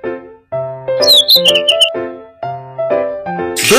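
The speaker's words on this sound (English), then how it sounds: "Bird." A cartoon bird chirps in a sequence of bright, clear, tonal tweets and whistled calls, loud and close, ending in a rising sweep.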